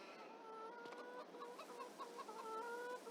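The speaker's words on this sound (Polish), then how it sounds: "Jak widzicie, kurki słychać dosyć dobrze." Hens cluck on a farm, a series of soft, repeated clucks at moderate distance with no talking.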